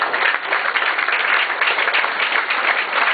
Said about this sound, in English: go give him a round of applause because he's done this for us